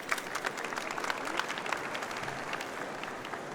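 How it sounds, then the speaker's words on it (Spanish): An audience at an opening panel on integrity in public procurement claps steadily, a dense even patter of many hands heard from across the room, moderately quiet and sustained throughout without anyone speaking. "con este aplauso le damos las gracias también a todo el panel"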